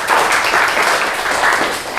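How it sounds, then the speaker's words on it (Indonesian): A classroom of students claps for a classmate, a burst of many hands applauding together at close range, fairly loud and steady before cutting off abruptly. "tepuk tangan dulu untuk Tony."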